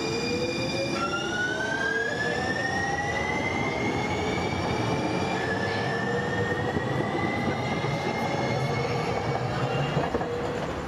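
Siemens-built San Diego Trolley light rail train running along its line, loud and close throughout, with a steady rolling rumble under rising and falling whining tones and wheel squeal.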